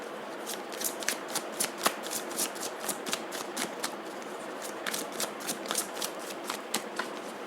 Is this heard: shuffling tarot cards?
yes